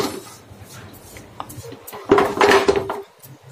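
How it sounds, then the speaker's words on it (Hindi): Salt spread across the bottom of a large kadhai for ovenless pizza: quiet scraping and gritty shuffling against metal, building into a louder rattling sweep near the end, close by. "नमक को बराबर हमने फैला दिए।"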